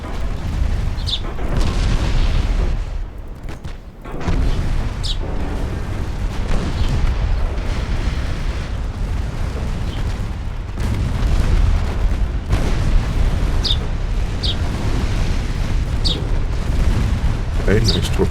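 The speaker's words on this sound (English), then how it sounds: "nice torpedo hit" A torpedo hits a destroyer in the naval battle game Ultimate Admiral Dreadnoughts: deep rumbling booms and heavy explosions roll over continuous low battle noise, with sharper pops scattered throughout.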